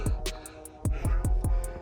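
Heavy, labored breaths of a hiker climbing Yeondaebong on Gadeokdo repeat in a steady rhythm, each a rough gasp close to the mic, about six in under two seconds.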